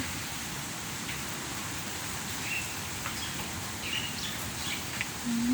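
Rain falls steadily on wet trees outdoors after two days of downpour, a soft even patter and hiss throughout, with faint bird calls in the background and no talk.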